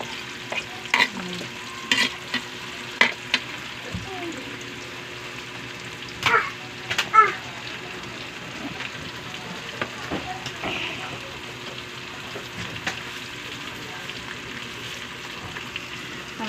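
Onions frying and being stirred in a pan for Filipino binagoongang talong, with a steady sizzle and scattered scraping and clinking of the utensil against the pan, plus a few sharper knocks.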